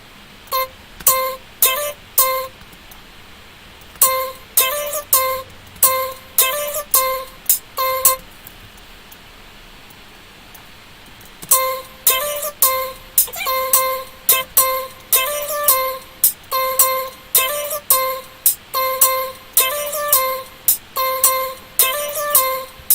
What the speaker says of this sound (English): So that was the melody for the vocal chop which I did in my sound design experiment